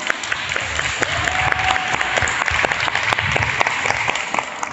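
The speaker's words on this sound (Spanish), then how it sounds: "Domínguez, un fuerte aplauso" Loud, sustained applause from an audience greets Pablo Domínguez, the Spanish voice of Goku, at an interview event. Many hands clap in a dense, continuous wash with sharp individual claps standing out, and a faint tone briefly sounds underneath.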